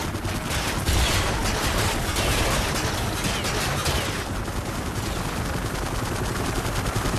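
Dense, continuous video-game gunfire rattles loudly throughout in rapid automatic bursts, with no pauses.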